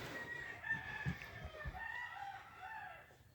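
Chickens on a farm, light and dark birds kept for their traits, cluck and call in short bursts with a faint rooster crow among them, distant and soft over quiet background.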